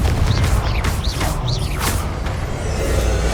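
Confringo spell blasts in Hogwarts Legacy boom with a dense, rumbling roar, a few whooshing streaks overlapping continuous combat noise at fairly loud level.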